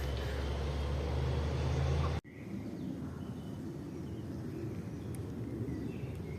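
Traffic on a nearby road beside the Atatürk Arboretum in Sarıyer, Istanbul: a loud, steady vehicle roar that cuts off abruptly, then gives way to a fainter, continuous distant hum of passing cars.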